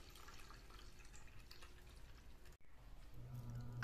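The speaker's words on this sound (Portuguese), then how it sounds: "completo com a água fria" Cold water pours steadily into dissolved grape gelatin, a continuous trickling splash at low level that breaks briefly and then resumes with a fuller filling sound.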